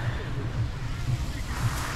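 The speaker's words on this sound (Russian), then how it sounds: "Такая небольшая волна." Small sea waves wash onto the shore at Gelendzhik, a soft steady surf with gentle low rumbling swells, close by and fairly quiet, with light wind in the background.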